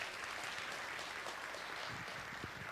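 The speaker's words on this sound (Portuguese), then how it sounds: "Você pode aplaudir o Senhor?" A church congregation claps for the Lord during a sermon, a soft, distant wash of steady applause across the room, low in level and without voices on top.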